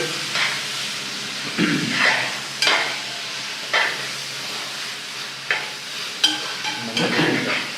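A spoon stirs mutton curry in a pan on a small stove, giving a steady sizzle broken by periodic scraping strokes at irregular intervals, close and moderately loud.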